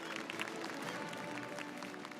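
Audience applause welcoming Nitin Gadkari at a large summit event, a steady wash of many hands clapping from a crowd at moderate level, with no voices over it.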